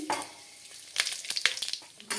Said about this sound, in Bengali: তেজপাতা দিয়ে দিলাম পাঁচ ফোড়ন দিয়ে দিচ্ছি